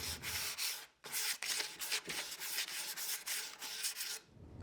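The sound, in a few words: sanding edges of plywood shelf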